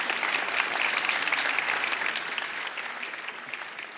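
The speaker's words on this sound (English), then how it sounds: "Everybody give him a big hand of applause." Audience at a life science startup pitch competition applauding a presenter after his pitch, a dense steady wash of many hands clapping that fades slightly toward the end, with no speech over it.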